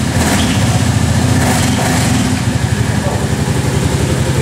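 An ATV fitted with Kimpex Commander Trek all-season tracks runs close by with a steady, loud engine drone and a fast rhythmic throb, heard throughout with voices mixed in.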